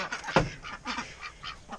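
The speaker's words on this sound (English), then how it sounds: "Fat ducks." Fat Peking ducks quack and honk close by on a farm with chickens, several short nasal calls in a quick uneven burst.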